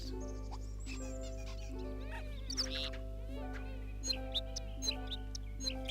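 In Viva Piñata, a Sparrowmint piñata bird gives a run of quick, high chirps and squeaky calls over a steady, bouncy background tune with a low drone.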